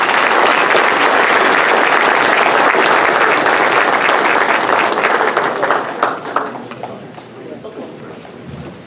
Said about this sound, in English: Let's give him another round of applause for the great analysis.